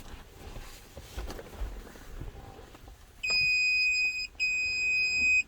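An Autel MK808 scanner beeps while programming a key fob for a 2009–2012 Ram 1500; after some quiet shuffling, a loud steady electronic tone sounds for about a second, breaks briefly, then resumes.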